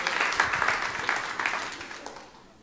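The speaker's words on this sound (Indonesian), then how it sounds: "Ya, beri tepuk tangan untuk Tuhan kita." A congregation at a church service applauds God, with dense, sustained clapping from many hands that gradually fades out, and a faint voice underneath.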